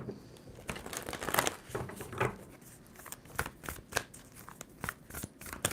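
Tarot cards shuffled by hand during a reading, giving a close run of papery riffles, flicks and soft slaps in irregular bursts, with no talking.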